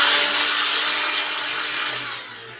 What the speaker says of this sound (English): So you first listen the sound of this mixer grinder.